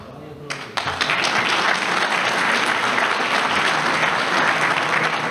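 A crowd at a political party's New Year pie-cutting event bursts into dense, sustained applause that starts abruptly and stays loud and even to the end, with a few voices mixed in.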